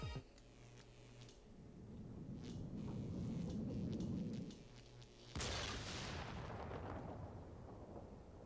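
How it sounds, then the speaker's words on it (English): An explosion in the video game Ghost Trick: Phantom Detective: a low rumble swells for several seconds, then a sudden bright, sharp blast bursts in and fades into crackling noise. It is fairly quiet and heard alone, with no talk. "An explosion?"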